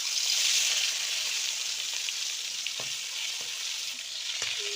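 Prawns fry in hot oil in a wok for a village-style jackfruit and prawn dish: a loud, bright, continuous sizzle close by that eases slightly, broken by a few soft knocks, with no speech.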